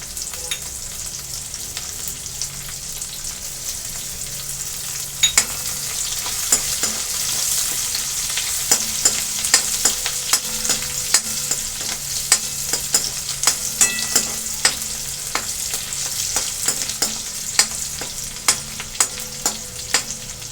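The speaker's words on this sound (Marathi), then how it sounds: "मिरची देखील आपण व्यवस्थित परतून घेणार आहोत" Green chillies and garlic sizzle steadily in hot oil, a close, continuous hiss broken by frequent crackles and the scrape of stirring.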